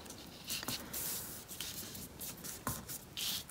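Sheets of printed paper are creased and folded into a woven bookmark, giving soft dry rubbing and crinkling with a few sharper creasing snaps, close and fairly quiet throughout.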